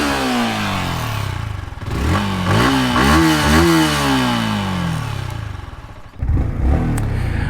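A 2022 Yamaha R15 V3 S motorcycle idles with a clattery exhaust, then its engine is revved in a few sharp, rising blips before dropping back to idle, loud and close.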